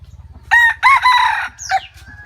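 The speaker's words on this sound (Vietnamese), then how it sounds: "Đây là hai con gà mồi nhá." Two decoy roosters crow loudly and close by, one long crow followed by a shorter, strained call, over a low, steady rhythmic thumping in the background.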